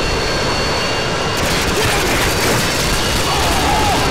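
A Harrier jet killstreak in Modern Warfare 2 on the Rust map roars steadily through the whole stretch, a loud broadband jet wash mixed with game noise, with a voice talking over it.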